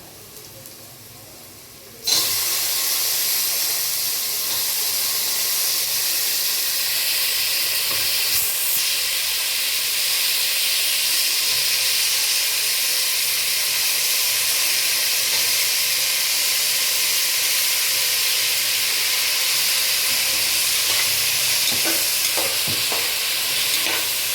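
Vegetables and tomato drop into hot oil in a pan for a pulao, setting off a sudden loud, steady sizzle that holds on close and constant, with faint stirring scrapes near the end and no talking.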